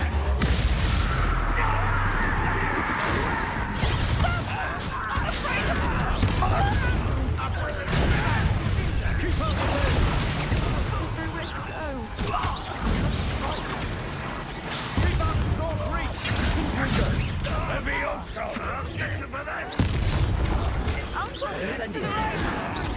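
Loud, continuous spell combat in Hogwarts Legacy, with repeated Bombarda explosion bursts and crashes over dense battle noise, and a voice calling out spells throughout.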